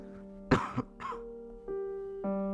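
Close, loud coughs from a man in a doctor's consultation, two sharp bursts near the start followed by a throat-clearing sound, with a low steady hum underneath.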